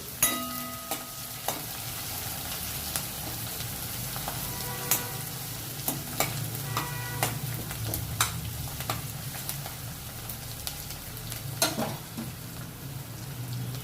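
Chopped onions sizzle in a pan for potato and tomato curry, a soft continuous frying hiss broken by scattered utensil clicks and scrapes against the pan, moderately quiet and close, with no voices.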